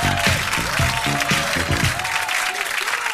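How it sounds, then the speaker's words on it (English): Studio audience at a comedy show applauding a comedian as he takes the stage, steady dense clapping that thins out toward the end, with a voice speaking over it at first. "That means a lot to me when I come out, hear that kind of applause."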